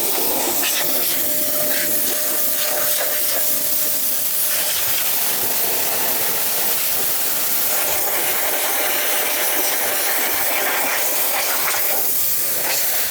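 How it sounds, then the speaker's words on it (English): Compressed air blower blasting through the dash of a DeLorean interior, a continuous loud broadband hiss that stays steady throughout with small fluctuations, no talk. "Now I'm just gonna go nuts. It's gonna blow air everywhere."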